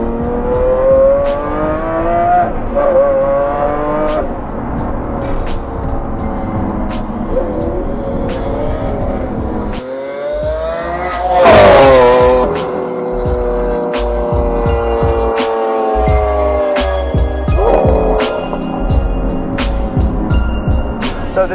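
A DMC-kitted Lamborghini Aventador Molto Veloce Roadster roars steadily close by, its exhaust note rising and falling through repeated revs, with one sharper surge in the middle and no talking over it.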